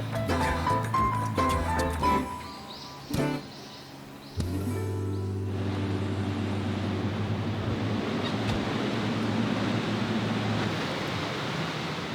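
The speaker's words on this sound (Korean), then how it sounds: "며칠 전부터 예보된 대로 비바람이 세찹니다." Strong wind and driving rain roar in a broad, steady wash outdoors. Low rumbling gusts and tonal sounds come at the start, then a loud, continuous hiss of wind-blown rain runs to the end.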